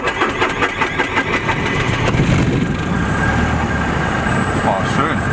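Bolkow Bo 208C light aircraft engine starts with rapid sputtering firing, then settles into a steady, loud idle rumble close to the cockpit.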